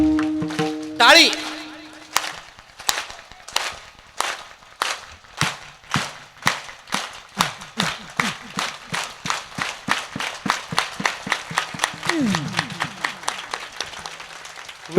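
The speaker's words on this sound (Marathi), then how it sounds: "फक्त टाळी वाजवायचे, टाळ वाजवू नका." An audience at a Marathi devotional kirtan claps hands together in rhythm, the sharp unison claps starting slowly and quickening into a steady fast beat, with voices singing and calling throughout.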